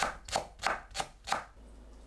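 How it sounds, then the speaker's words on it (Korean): A knife slices green onions into rounds on a cutting board, about five crisp strokes in an even rhythm, close and clear with no talking. "파를 둥글게 썰어줍니다"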